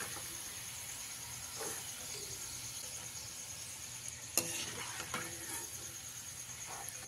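Shredded potatoes for jhuri aloo bhaja frying in hot oil give a steady, close sizzle throughout, with a few sharp stirring clinks and scrapes near the end and no talking.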